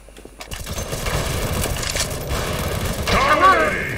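Game gunfire in Counter-Strike: Source on the awp_lego map, a steady run of close, loud shots and impacts across the clip, denser and louder near the end, with no talk over it.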